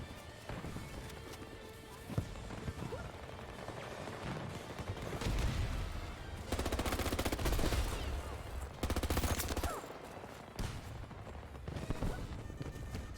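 Turrets fire in an online shooter game in rapid bursts of gunfire, some distant and some closer, over constant background noise and game sounds, with bursts growing denser in the middle.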